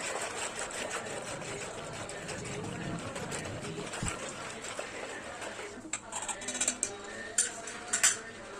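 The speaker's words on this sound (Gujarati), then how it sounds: "પછી આપણે સારી રીતે વલોઈ નાખીશું" A sweet kadhi mixture is whisked in a bowl, giving irregular scraping and clinking of a whisk against the bowl that grows sharper and louder toward the end, with a voice speaking over it.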